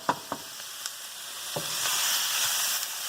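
Fajita frying in a hot pan gives a continuous sizzle that builds and spreads, with a few soft clicks and taps of stirring near the start.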